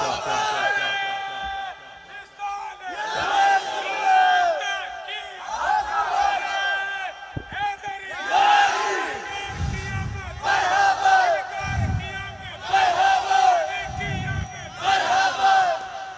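A large crowd at a religious gathering shouts chanted slogans in repeated bursts, swelling and falling in rhythm with deep rumbles of many voices, loud and reverberant throughout.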